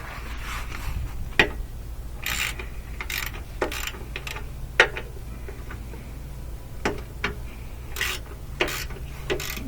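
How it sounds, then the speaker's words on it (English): A 13mm socket ratchet works loose the ground bolts on a GMC Yukon or Chevy Tahoe, giving a series of short, sharp metallic clicks and scrapes at irregular intervals over a steady low hum. "A 13mm socket on there, and just loosen these up"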